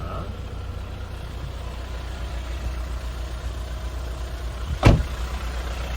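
A fully warmed-up Kia Carnival rental car engine idles with a steady low rumble, constant and fairly quiet throughout, with one brief sharp knock or bump near the end.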